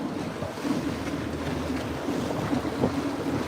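A water taxi cruises through the canals of Venice: a steady, close motorboat engine drone blended with rushing water wash and gusty wind buffeting the microphone, with no one talking.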